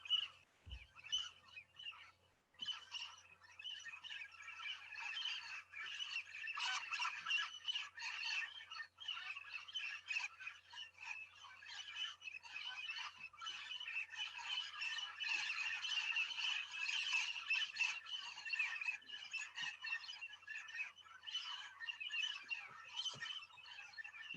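A flock of parrots calls continuously at a distance, a busy chorus of harsh squawks and chirps with no pauses, heard faintly.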